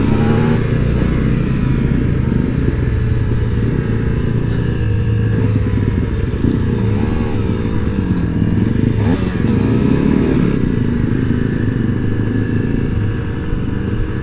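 An Aprilia SX-125 two-stroke supermoto motorcycle roars continuously up close, its loud buzzing engine drone holding steady with slight shifts in pitch as it is ridden.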